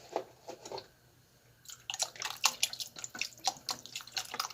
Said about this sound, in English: I think I might put a little bit more of this broth in here